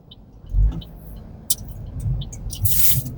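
A car passing on a Honolulu road, heard from inside a moving vehicle: a low rumble swells and fades, with road noise and a few brief clicks and hissy scrapes.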